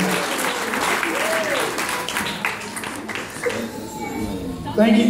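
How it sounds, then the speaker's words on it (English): A wedding reception crowd applauds the bride's father, a steady wash of many hands clapping that carries through the whole stretch, with voices and a few cheers mixed in. "Let's have a big round of applause."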